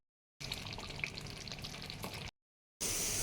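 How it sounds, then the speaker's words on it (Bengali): Ghee hits pointed gourd (potol) frying in a pan, giving a soft steady sizzle that cuts out briefly and then resumes, close and fairly quiet. "আমার পটলটা প্রায় হয়ে এসছে। এবার আমি একটু উপর থেকে ঘি দিই।"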